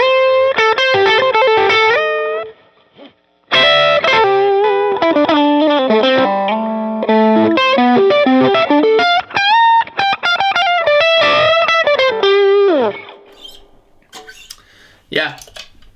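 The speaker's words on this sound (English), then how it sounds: "Then we can add in some overdrive." A distorted electric guitar through a Dr. Z amp preset on a Line 6 Helix plays a quick melodic run of sustained notes with a crunchy overdriven tone, pausing briefly before continuing and trailing off at the end.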